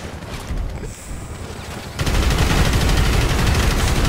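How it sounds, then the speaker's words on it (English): A minigun firing explosive bullets in a prison-riot shooter game. A rough burst opens it, then after a short lull a dense, continuous roar of rapid fire and blasts carries on loud to the end. "And I'm using the minigun right now, with explosive bullets."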